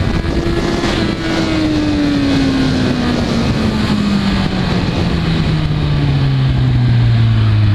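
A 2015 Kawasaki Z1000 motorcycle engine during a wheelie demonstration, a loud steady drone with its pitch gradually falling, heavily buffeted by wind noise, with no talking.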